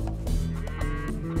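Farm animals bleat in the Age of Empires 2 strategy game, a few short sheep-like calls against a quiet, continuous game background.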